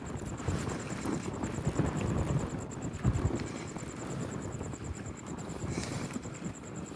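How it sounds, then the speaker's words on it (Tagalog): Steady strong wind buffeting the microphone with low rumbling gusts throughout, and a faint high whine in the background. "Malakas po ang hangin, pasensya na po sa maririnig ninyo."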